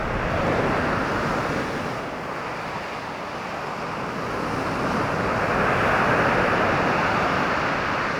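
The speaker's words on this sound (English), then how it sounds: "And it's absolutely blasting it with wind." Strong wind roars steadily past a sea wall while waves surge and break against it, a dense, continuous rush that swells and eases over several seconds with no voices.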